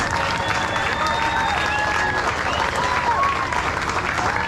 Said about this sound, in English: let's give one big round of loud applause for everybody to put this great event together tonight